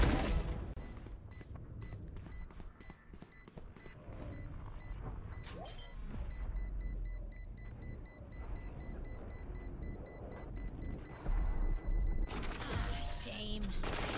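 Explosions and gunfire fill a battle royale video game match, with quiet, distant bursts of shots and booms scattered through low rumbling, and a louder crash near the end.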